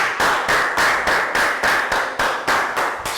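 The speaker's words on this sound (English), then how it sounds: "But now, an extra round of applause for Team 1." A classroom of Year 3 pupils clapping for Team 1 in a math lesson, a steady rhythmic round of claps in regular bursts, close and fairly loud with no talking.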